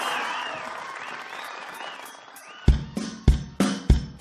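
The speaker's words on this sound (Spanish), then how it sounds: "Pedimos un poquito de palmas." Rhythmic studio audience clapping on Canal 9's Argentine TV game show Hoy ganás vos, a series of loud, sharp, evenly spaced claps starting partway through after a quieter stretch of crowd murmur and singing.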